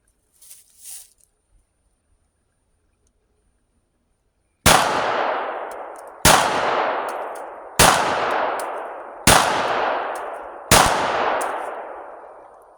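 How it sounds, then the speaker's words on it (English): A Glock 25 pistol fires five evenly spaced shots of Winchester 95 grain flat point .380 ACP at an outdoor range, each loud sharp crack trailing off, after a brief quiet start. "now we're going to change over and fire the Winchester flat point, 95 grain"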